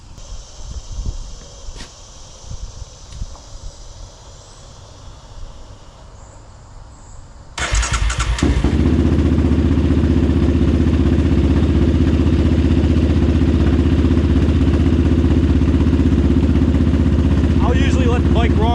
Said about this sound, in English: I'm gonna fire the old girl up. We're gonna get the engine hot.